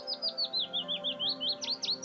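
Bird song of rapid, repeated high chirps in a steady rhythm, clear and close, ending with a few louder sweeping notes.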